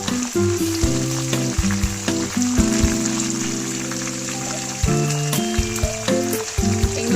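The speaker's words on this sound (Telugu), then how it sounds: "దీన్ని మనం మంచిగా బ్రౌన్ కలర్ వచ్చినాక ఫ్రై చేసుకోవాలి." Cumin, mustard seeds, chana dal, peanuts and dry red chillies fry in oil for Tirupati-style pulihora, a steady close sizzle broken by layered tonal hums and clinks throughout, with no talking.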